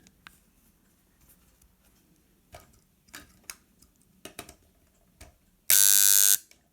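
A DeLonghi coffee machine valve with a worn stem gives a few faint clicks and taps, then breaks into a loud, steady buzz lasting under a second near the end.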